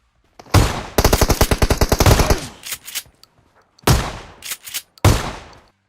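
M4 assault rifle fire in PUBG Mobile comes as a long rapid automatic burst, followed by several shorter bursts and single cracks, loud and sharp with gaps of near silence between.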